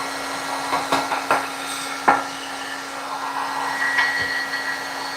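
A heat gun blows hot air in a jig-painting workshop, a steady airy whir with a fixed hum underneath, broken by a few faint knocks and clicks.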